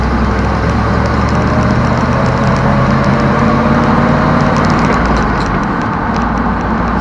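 A 1979 Dodge Power Wagon's engine runs loud and close for the whole stretch, a steady, dense rumble with no clear changes in speed. There are no voices.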